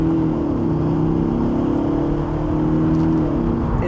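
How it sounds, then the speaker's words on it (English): A 2021 Audi S6 launches hard under launch control in dynamic mode with stability control off, its engine droning loudly and steadily with a rising harmonic tone throughout, close and continuous with no talking. "we also have launch control, so let's take the ESC off, put the car into dynamic mode, foot on the brake, system ready, go!"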